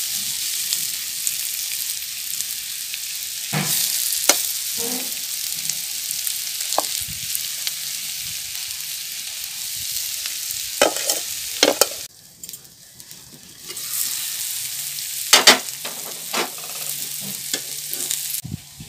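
Taro flower stalks fry with chili powder in a pan in a village kitchen, giving a steady sizzle broken by scraping stirs and clanks. A brief quieter gap comes midway before the frying noise and stirring resume.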